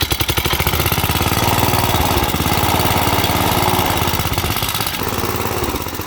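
John Deere D150 lawn tractor engine running close by, a loud, steady, throbbing small-engine drone with an even pulse and no talking.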